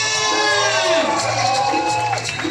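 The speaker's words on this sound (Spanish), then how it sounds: "queremos escuchar una bulla en la cuenta de 3" A live show crowd lets out a loud, sustained cheering racket of shouts and screams on a count of three, filling the whole stretch at full volume.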